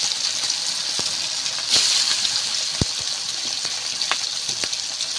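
Pieces of fish fry in a generous amount of oil in a home kitchen in the Sundarbans, giving a steady close hiss with occasional sharp pops and crackles.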